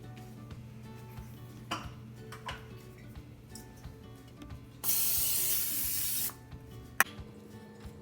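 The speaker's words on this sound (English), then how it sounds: "butter and spray the baking pan so that the cake doesn't stick to it once it's baked" A single steady hiss of cooking spray onto a cake baking pan lasting about a second and a half, close by, amid quiet clinks and small kitchen handling noises.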